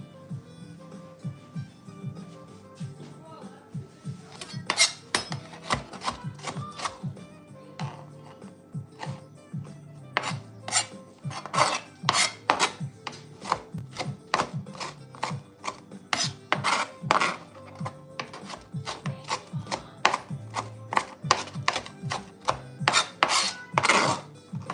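A kitchen knife chops ingredients finely for jollof rice, a rapid run of sharp, close taps against a cutting board that starts after a quiet lead-in and continues in bursts to the end, with no talk.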